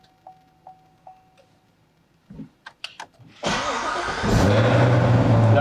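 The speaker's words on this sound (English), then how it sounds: "I think we should start it up and get some exhaust sound and see what this thing" A Corvette ZR1 with a supercharged LT5 engine starts up after a few clicks and chimes, catching with a sharp burst and settling into a loud, rumbling exhaust idle.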